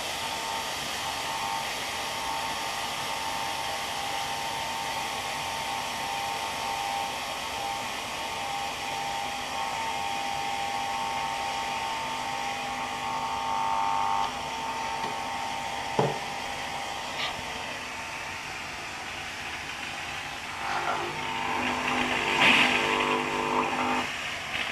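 A smoke machine runs with a steady mechanical whir that roughens and strains as it clogs, with a sharp click partway through and sputtering near the end.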